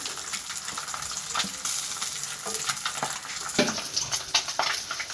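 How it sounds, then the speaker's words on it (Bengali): Pabda fish frying in a pan of hot oil for a mustard-poppy seed curry, giving a steady close crackling sizzle with occasional louder pops and stirring scrapes, no talking. "আমার মাছ ভাজা প্রায় হয়ে গিয়েছে।"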